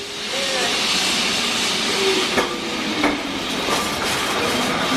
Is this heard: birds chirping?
no